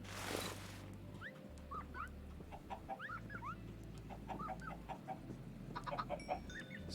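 Chickens in a hardcore survival video game cluck and squawk in short repeated calls over a steady low droning background, with a brief harsh burst at the start.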